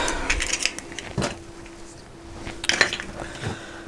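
A spoon clinks and scrapes against a bowl while stirring dry carrot cake ingredients such as spices, baking powder and sugar, with a few close, sharp taps spread over a quiet background.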